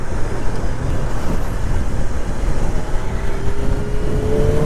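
A BMW M1000R motorcycle accelerates in fourth gear, a loud, steady engine roar with rising pitch and heavy wind rush throughout.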